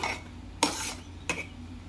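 Thick sabudana and potato mixture stirred in a pot, two quiet scraping clinks of a spoon against the pot about half a second apart, faint and alone.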